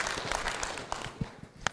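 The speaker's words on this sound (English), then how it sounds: "Please give a round of applause for our panelists." Applause for a conference panel at an annual round table, with scattered claps that come and go at moderate volume and a few sharper hand strikes near the end.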